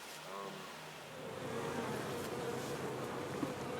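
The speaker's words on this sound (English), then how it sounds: "There's some of the bees. These guys are bearding." Faint buzzing of many honeybees hums steadily in the background, a soft continuous drone with a brief voice at the start.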